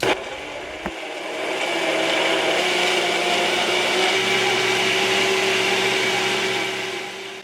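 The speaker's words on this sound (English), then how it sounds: "the instruction says to use this blender 1 minute at a time" A Baby Bullet blender motor whirs steadily after a brief click, running at a constant loud pitch with a grinding, whining hum that tapers slightly at the end, pureeing baby food.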